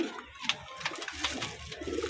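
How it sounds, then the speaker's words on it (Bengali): A pair of tagged Pakistani pigeons coos close by, with soft repeated calls and a few sharp flutters or clicks over a quiet room. "পায়রা দুটো দেখুন"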